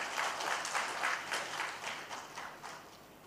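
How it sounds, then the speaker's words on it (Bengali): Loud, sustained audience applause at a Professional Public Speakers Forum event, a dense wash of many hands clapping steadily for about three seconds before easing slightly. "সবাই প্রফেশনাল পাবলিক স্পিকার্স ফোরামের জন্য জোরে একটা করতালি।"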